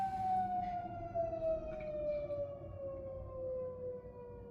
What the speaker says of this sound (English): Please forgive the siren stuff that you hear.